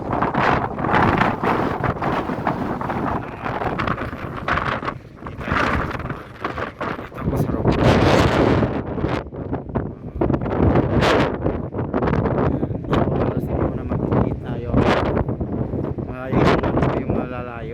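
Strong wind in a Middle East sandstorm buffets the microphone in loud, gusting roars that rise and fall continuously, with a voice speaking beneath the blasts.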